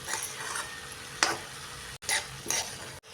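Spoon scraping and stirring cabbage in a pan, a soft steady sizzle underneath broken by a few sharp scrapes and clatters against the pan, fairly quiet and close with no talking.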